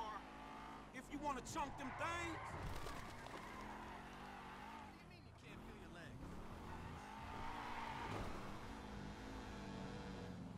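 A car races through GTA V with tires squealing and skidding in wavering bursts over a revving engine, while a person talks excitedly throughout.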